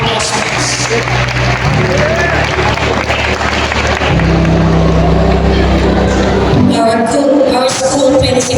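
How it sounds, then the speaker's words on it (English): Applause from a crowd at a school graduation ceremony, a steady wash of clapping heard over loud low droning hum and background noise, continuing throughout. "Round of applause, please."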